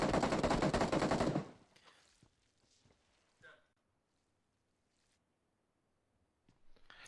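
Rapid automatic gunfire in PUBG Mobile rattles in a dense, loud burst at the start, then cuts off, leaving faint scattered sounds and quiet stretches.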